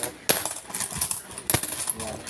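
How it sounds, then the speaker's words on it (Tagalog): Twenty-denomination coins dropping into a nearly full coin container, two loud bright metallic clatters that spill into rattling and settling jingles, close by. "Halos na puno na po itong lagayan ko ng barya"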